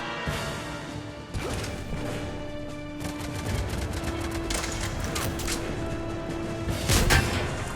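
Gunfire in the Mass Effect 3 shooter, with a string of sharp, close shots and impacts cracking over a continuous hum of game ambience and effects.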